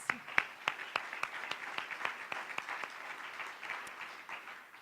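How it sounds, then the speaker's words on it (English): Audience at a school board meeting breaks into a round of applause, a steady patter of claps at moderate distance with sharp individual hand strikes standing out, sustained for several seconds without talk. "Give them a round of applause."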